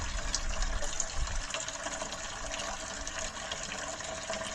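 A toilet in a hall bathroom flushes with water flowing steadily but not strongly, a continuous close rushing and trickling wash with no voices.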